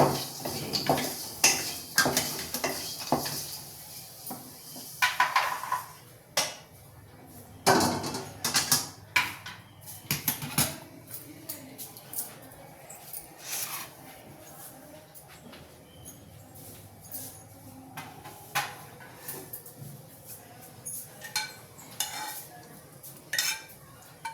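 Ragi flour payasam is stirred in a pot, producing close, busy metallic scraping and clanking that comes in uneven bursts, thickest early on and thinning out toward the end.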